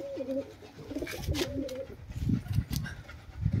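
A red dubaj pigeon coos in low repeated rolling calls, fairly close and moderately loud, over rustling and light background noise.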